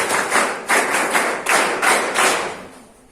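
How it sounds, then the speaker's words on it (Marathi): College audience at a career guidance program giving rhythmic group claps in unison, loud sharp bursts repeating in sets and fading at the end. "जोरदार टाळ्या वाजून थ्री क्लॅप्स देऊन त्यांचं अभिनंदन करूया"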